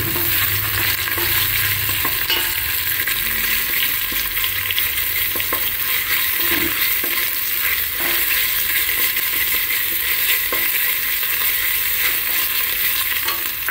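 Ginger garlic paste frying in oil in a pan for Karimnagar bagara rice, a loud continuous sizzle with faint stirring scrapes throughout, close up and unbroken.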